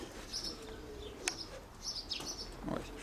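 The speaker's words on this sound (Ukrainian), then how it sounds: "Это все голуби, они летали." Domestic pigeons kept by a breeder flying about, with brief wing flaps and soft chirps and coos scattered over faint background noise, fairly quiet and intermittent.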